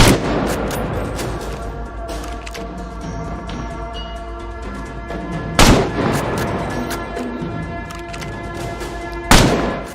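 Gunfire from a weapon in the video game INSOMNIA: The Ark, a dense stream of rapid shots with two heavier booming blasts standing out, set against a continuous layered game soundscape.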